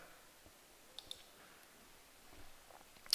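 Mouse clicks while adjusting chart filter settings on a computer, a couple of faint, sharp clicks near the start and a louder cluster at the end over quiet room tone.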